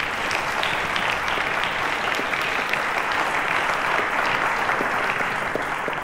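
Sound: studio audience applause for quiz contestants

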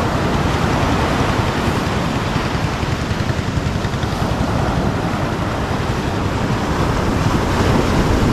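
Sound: large sea waves

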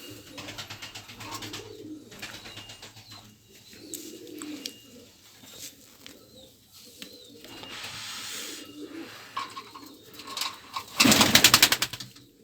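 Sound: pigeons cooing during evening bird feeding

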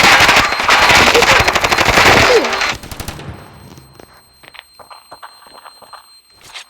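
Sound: gunfire in a video game

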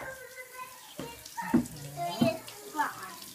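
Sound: water running from a tap during handwashing

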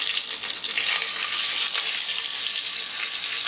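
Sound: onions sautéing in a pan

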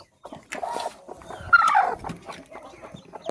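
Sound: brooding hens clucking with hatching chicks

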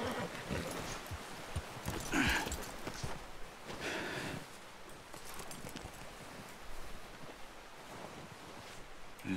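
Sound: horse hooves while riding, Red Dead Redemption 2 video game

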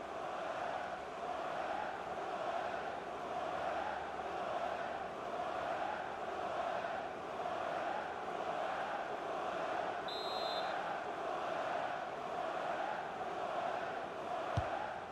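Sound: stadium crowd doing a Mexican wave at soccer match

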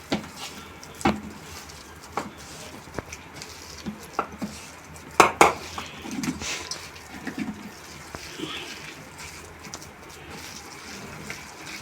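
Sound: beating urad dal batter in a bowl

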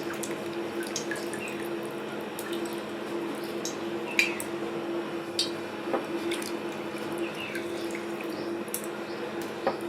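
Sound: squeezing water out of soaked lentil fritters (dahi vada)

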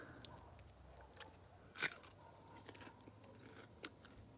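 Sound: biting crunchy raw zucchini

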